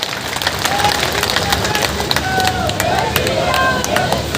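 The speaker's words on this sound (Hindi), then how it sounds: "ऐसे मजबूत व्यक्तित्व को भाइयों हम जोरदार तालियों बजा करके इसका स्वागत करें, जोरदार तालियों के साथ।" Applause and cheering from a crowd at a BJP political rally in India, a dense continuous patter of many hands with a babble of voices under it, steady throughout.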